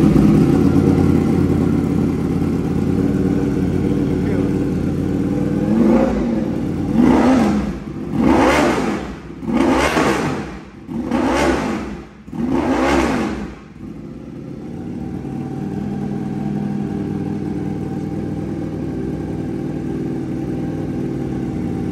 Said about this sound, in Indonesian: Beres pasang knalpotnya, sekarang kita mau coba tes nyala.